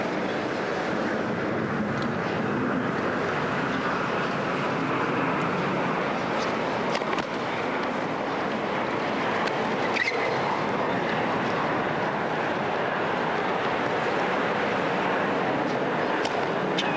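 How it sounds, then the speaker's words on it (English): A jet aircraft roars overhead at a tennis match, a loud, steady broadband rumble lasting throughout and drowning out the court. "Loudest noise from a jet I think we've had in the tournament."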